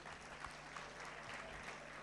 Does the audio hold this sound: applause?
yes